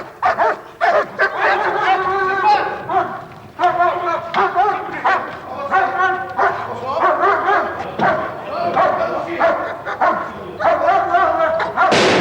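Police attack dog in an 1980s Marseille anti-gang unit, barking and yelping in repeated close bursts throughout, with short whimpering yips between volleys.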